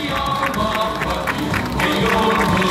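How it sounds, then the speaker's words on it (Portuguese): An audience at a Jaraguá do Sul anniversary event put on by an Adventist church applauds the Adventurers Club, a steady patter of clapping from a moderate crowd, with a voice and some cheers mixed in. "Nossos aplausos ao Clube de Aventureiros Herdeiros do Vale."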